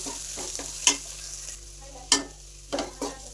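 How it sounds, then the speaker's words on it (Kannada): Green chillies and onion frying in a pan for an okra and egg dish, a soft continuous sizzle broken by a few sharp spatula scrapes as they are stirred. "ಹಸಿಮೆಣಸಿನ್ಕಾಯಿ ಒಂದು ಸ್ವಲ್ಪ ಫ್ರೈ ಆಗಬೇಕು."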